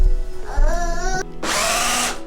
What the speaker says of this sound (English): I'm just going to use the normal drill for now because it's a bit late.